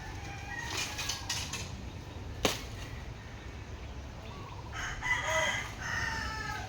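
A rooster crows at a distance over a steady outdoor background with faint ambient noise; the call is moderately faint.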